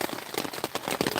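Heavy rain drums on a tent, a dense, close, steady patter of drops with brief louder bursts, heard from inside for a short moment.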